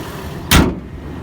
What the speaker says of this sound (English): easy to lift the hood up, push it right back down